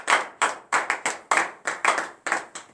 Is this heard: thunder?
no